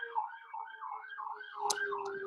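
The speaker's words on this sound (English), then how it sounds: "there's an ambulance and a fire truck that just went by" Sirens of an ambulance and a fire truck passing by, a continuous wailing, warbling tone that stays fairly loud and steady outdoors, heard alone without talk.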